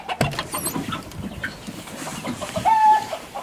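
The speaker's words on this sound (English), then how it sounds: "Let's check on the chicks and see how they've been doing." Young chicks on a farm give short clucks and peeps amid close rustling, with a brief thin whistle-like call near the end.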